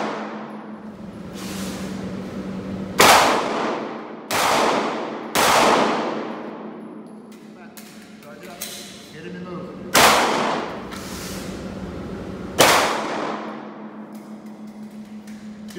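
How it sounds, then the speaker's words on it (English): Gunshots fired at steel targets during a private firearms training lesson on a range, about seven sharp, loud reports spaced a second or two apart, each followed by a ringing decay, over a steady background hum. "Two shots."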